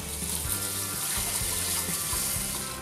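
Water pours steadily from a tap into a pan of rice before steaming, making a continuous close gushing splash with faint rhythmic bumps underneath.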